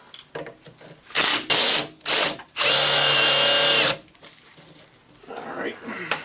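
A power tool whirs in short bursts and then one longer run while driving a stabilizer bar link bolt down on a 2002 Chevy 2500HD, loud and close, with faint talk and clanking afterward.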